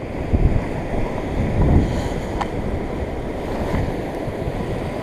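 Rough sea waves roll onto the Normandy coast, a loud continuous wash and rumble mixed with gusty wind buffeting the microphone.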